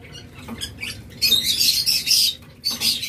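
A violet opaline budgerigar pair squawks and chatters up close, loud raspy bursts after a brief softer opening, with a short pause before the calls resume.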